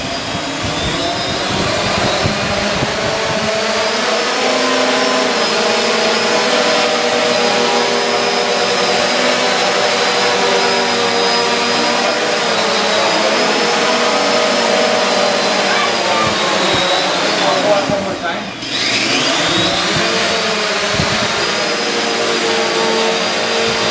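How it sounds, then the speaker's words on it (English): Multirotor delivery drone with eight motors runs at a loud, steady whine with layered buzzing tones, briefly dipping and rising in pitch near the end, while a presenter talks over it. "8 of these motors that he has on this drone right now"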